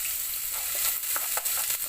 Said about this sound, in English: So in a pot, go ahead and add some vegetable oil. Then add your onion.